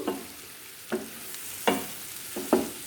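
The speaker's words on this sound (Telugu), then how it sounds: "ముక్కలన్నింటికి బాగా పట్టేలాగా కలుపుకుందాము" A cauliflower, chana dal and tomato curry with chili powder and salt is stirred in a pan, giving four distinct scraping strokes over a soft, steady sizzle, close and without talk.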